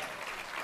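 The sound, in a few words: audience applause at awards ceremony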